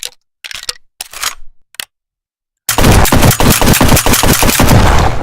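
A SPAS automatic shotgun firing in a Unity VR video game, a few scattered shots and clicks, then a sustained loud burst of rapid repeated blasts, with no talking.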